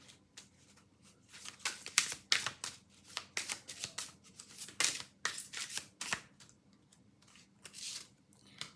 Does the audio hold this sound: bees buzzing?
no